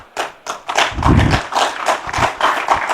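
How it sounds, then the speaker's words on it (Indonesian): An audience at a cooperative launch event claps together in a dense, lively burst of applause, close and fairly loud. "yang paling keras tepuk tangan kawan-kawan PDIP"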